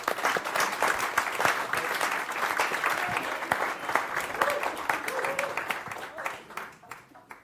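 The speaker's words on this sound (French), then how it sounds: "on peut applaudir Pierre." An audience at a startup demo day applauds after a pitch: sustained, dense clapping from a sizeable crowd filling the room for several seconds, with faint voices underneath before it thins and fades at the end.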